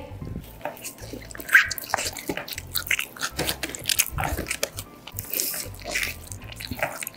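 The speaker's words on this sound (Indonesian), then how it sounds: "Kita makan lagi ya." Crunchy McDonald's fried chicken bitten into and chewed up close during a mukbang, with repeated crisp crunches and wet chewing sounds filling the clip.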